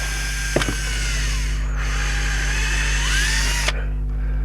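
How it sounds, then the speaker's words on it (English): Cordless drill boring a small pilot hole straight down through a garden pot into the timber beneath, a loud continuous motor whine that shifts in pitch as it bites and cuts off abruptly near the end. "I'm just going to drill straight down through the pot, a little pilot hole into the timber underneath"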